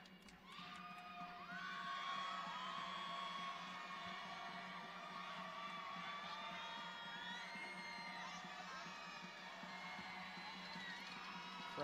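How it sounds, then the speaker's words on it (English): A women's college basketball crowd, GCU against California Baptist, cheers, whoops and shouts continuously during free throws in an indoor arena, with no clear gaps. "Crowd doing everything they can."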